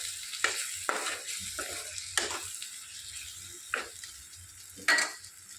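Egg tomato curry with coriander powder is stirred in a pan: five distinct scraping strokes at uneven intervals over a low sizzle and a quiet background hum, close and clear, no voices.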